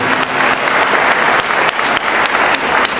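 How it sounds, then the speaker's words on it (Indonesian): A church congregation applauds during a sermon, dense continuous clapping filling the room for a few seconds, loud and close with no talk over it. "Beri tepuk tangan untuk Bapak kita yang ini."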